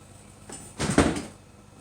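A refrigerator door is pulled open nearby with a brief thump and soft rush, a single short action in an otherwise quiet room.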